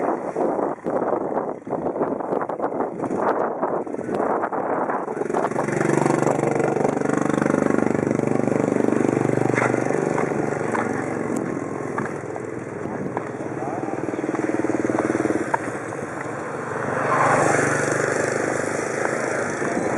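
Motorcycle engines idle and rev at the Dansavan–Lao Bao crossing on the Lao-Vietnam border, a steady mid-pitched drone with wind noise and voices talking nearby throughout.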